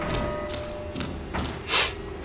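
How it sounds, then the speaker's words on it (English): A door being banged on in the Outlast horror game: a series of dull, muffled thuds spaced about half a second apart, heard through a low droning ambience. "I hear a door being banged on"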